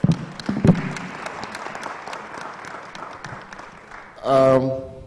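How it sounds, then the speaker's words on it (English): Audience applause at a judiciary public participation forum on budgeting, steady clapping from a seated crowd filling the room at moderate level, a voice speaking briefly at the start and a loud tone near the end. "Can we give her another applause?"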